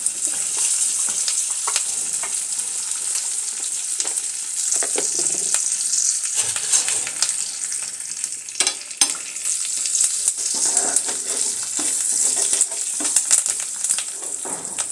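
Cumin, ajwain, asafoetida, curry leaves and whole dried red chillies sizzle in hot oil as the tempering for kadhi, a steady loud crackling fry with sharper pops and spits throughout.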